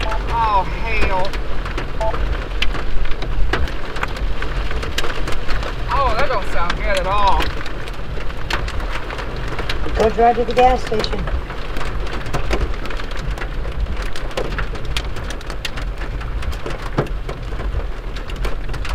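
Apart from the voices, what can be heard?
hail and rain storm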